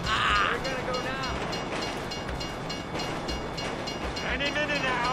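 A freight train rumbles past in Grand Theft Auto V, its steady rolling roar and clatter close and loud, with game characters talking over it.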